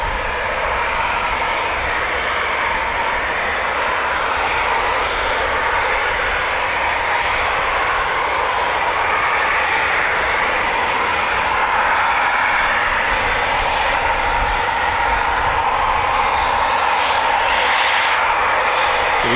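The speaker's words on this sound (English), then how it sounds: "So we do have a flight of 2 taxiing." Two Eurofighter Typhoon FGR4 fighter jets taxi at RAF Coningsby on a cold, clear morning, their engines producing a steady, continuous roar that stays constant and fairly loud throughout with no talk.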